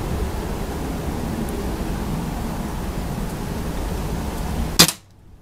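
A single sharp rifle shot cracks once, loud and close, over steady background hiss, followed by an abrupt silence.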